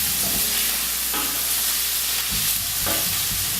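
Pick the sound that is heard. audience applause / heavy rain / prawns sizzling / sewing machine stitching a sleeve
prawns sizzling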